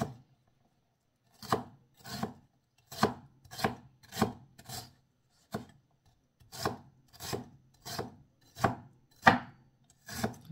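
Knife chopping ginger finely on a board: about a dozen crisp, evenly spaced chopping strokes in short bursts, close and clear, with brief pauses between, no talking.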